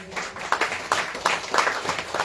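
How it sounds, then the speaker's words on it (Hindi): An audience at a Hari Katha gathering in Holland claps in steady, rhythmic unison, a loud group applause with evenly spaced beats and no voices over it. "इनके संपूर्ण परिवार के लिए ताली बजाइए"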